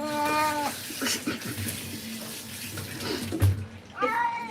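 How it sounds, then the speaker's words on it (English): A cat meows in drawn-out, warbling cries, one at the start and another at the end, over running water from a tap filling a bathtub, fairly faint. "I think this cat just swore at me."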